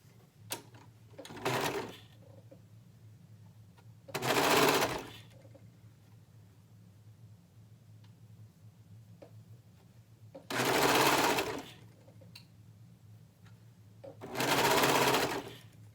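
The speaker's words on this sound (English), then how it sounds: "we're going to sew all three layers together, the cuffs, the cuff edges, and the sleeve" A sewing machine stitches shirt cuffs, cuff edges and sleeve together in four short whirring runs of about a second each, separated by quiet pauses with faint handling of fabric.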